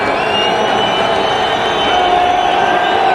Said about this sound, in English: The crowd getting very, very loud.